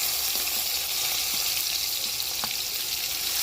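Cumin and mustard seeds frying in hot oil with garlic, a loud, dense, continuous hiss and crackle with a few faint pops, close up and without speech.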